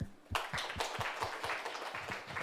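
Audience applause at the close of a conference talk during an academic event in India, a steady spread of many hands clapping together, moderately close, with no voices over it.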